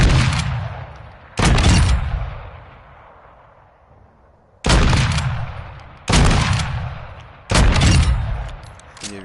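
Four loud, close gunshots from the video game Modern Warfare 2 fire one at a time, spaced a few seconds apart, each with a booming report that rolls out into a long echoing tail.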